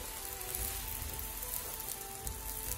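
An aloo paratha fries in oil on a medium flame, giving a dense, steady sizzle like light rain that stays close and even from start to finish, with no voices.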